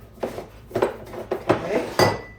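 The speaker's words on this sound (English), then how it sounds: "Now let me get my lids on." Lids being put on food containers in a home kitchen, making four or five distinct clattering knocks and clinks of container and lid contact, close and moderately loud with short gaps between them.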